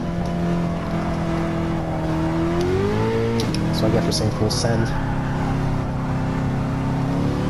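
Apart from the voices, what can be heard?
2017 Nissan GT-R engine accelerating on track lap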